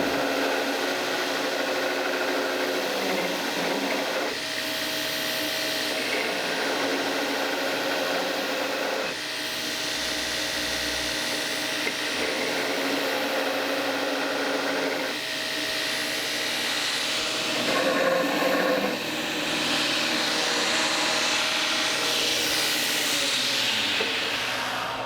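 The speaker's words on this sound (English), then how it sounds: "I'm going to grind that side clean so we can see what it looks like." A powered grinder whines steadily while a knife blade made from junkyard steel is ground clean, a loud continuous hiss that shifts slightly in tone as the blade is pressed and repositioned over about twenty-five seconds.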